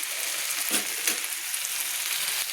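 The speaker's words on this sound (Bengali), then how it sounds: "সব মশলাগুলো আমি একসঙ্গে কষিয়ে নিচ্ছি" Spices sautéing with Malabar spinach and vegetables for a vegetarian chorchori, a steady dense sizzle with a few brief stirring scrapes, close and continuous, no talking.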